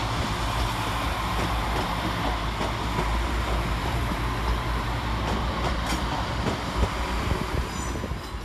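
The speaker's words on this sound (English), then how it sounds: "Arriving to terminate with a West Midlands Railway service off Walsall, we see 350-105." West Midlands Railway class 350 electric train pulling into Wolverhampton station to terminate, a steady rumbling roar of the train rolling along the platform with a hissing background, no speech.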